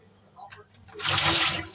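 Water is poured out through a kitchen strainer after washing, a short rushing splash that surges in after brief faint clinks and carries on loudly to the end.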